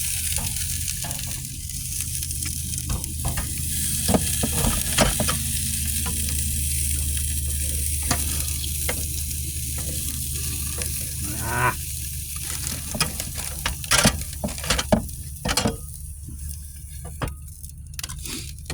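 Food fries in a pan on a stove, with a steady close sizzle and scattered pops, occasional clinks and brief scraping over the hiss.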